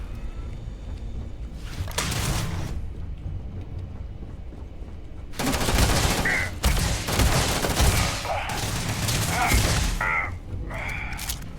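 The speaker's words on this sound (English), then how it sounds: "it's a laser shotgun" A laser shotgun fires in the sci-fi game Starfield, with loud bursts of crackling blasts in quick clusters separated by quieter stretches of game ambience.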